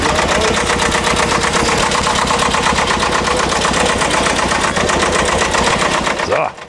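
A 22 hp tractor labors hard to drag a tree trunk, its engine chugging loudly in a fast, even rhythm that cuts off abruptly at the end.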